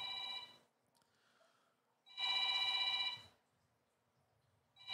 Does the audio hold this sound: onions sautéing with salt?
no